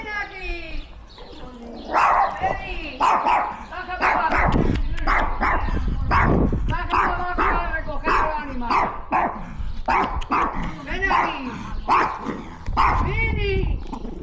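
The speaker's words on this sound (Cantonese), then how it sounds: "有隻旺財帶住條銀鏈，不停咁吠我咯。" A dog wearing a silver chain barks again and again near a house, with sharp repeated barks and yips mixed among people talking over it.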